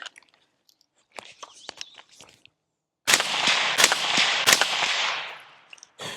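Several suppressed rifle shots through a Rich Back Defense suppressor on a Comstock muzzle device, bursting in quick succession with sharp, gassy reports, preceded by quieter handling clicks.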